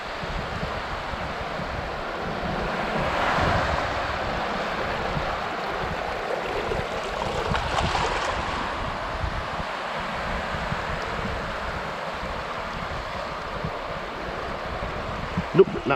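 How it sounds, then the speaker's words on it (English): Ocean waves break on a beach as a continuous broad wash of surf, swelling gently at intervals, with wind noise on the microphone and no talking. "So wait for these waves."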